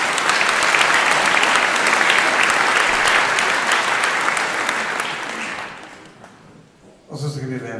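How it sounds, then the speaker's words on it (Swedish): An audience gives a dense burst of applause at a concert event, loud and sustained before fading out, followed by a voice speaking at the end. "Vi gör dem en applåd."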